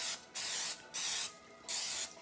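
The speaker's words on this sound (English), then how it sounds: "So now, I'm going to spray my pan." Cooking spray hisses from an aerosol can onto a non-stick pan for cranberry orange muffins in three close, even bursts of roughly half a second each, separated by short silences.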